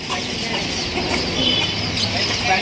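Chickens and small chicks cluck and cheep in a busy pet store, a dense steady chorus of fowl calls close by with faint background voices.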